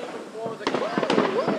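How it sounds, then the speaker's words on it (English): Fourth of July fireworks bursting outdoors, two or three quick muffled pops at a distance beneath people talking nearby. "Fireworks. I see some between there."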